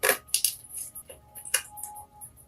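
Tarot cards tapped and slid back into the deck, a handful of crisp, sharp clicks and brief shuffling rustles close by.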